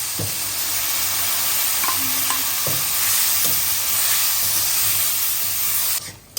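A masala of tomato, garlic and ginger paste with ground cinnamon, cardamom, turmeric and chili frying in a pot for aloo gosht, a loud steady sizzle with occasional stirring knocks, cutting off abruptly near the end.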